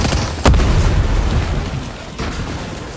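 Grenades go off in Fortnite: a sharp, loud blast hits first, followed by a rumbling tail and a second, softer explosion a moment later.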